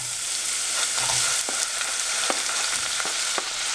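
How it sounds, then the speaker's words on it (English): Onions sizzle and fry in hot ghee in a pan for Punjabi split urad dal curry, a steady close crackling hiss broken by a few sharper spits and pops, with no talking. "we're going to add the onions"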